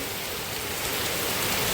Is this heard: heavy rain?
yes